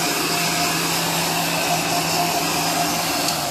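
Heat gun blowing hot air onto vehicle wrap vinyl, a steady continuous whirring blower hiss at constant level with a faint tonal hum underneath.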